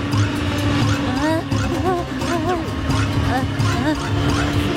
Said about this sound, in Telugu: బైక్ దానంతటా అదే వెళ్తోంది.